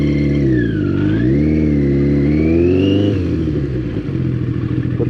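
A Yamaha Maxim X 750cc motorcycle engine accelerates loud and close, its pitch sweeping down, then climbing and holding high before easing off into a rougher idle-like rumble, with no talk.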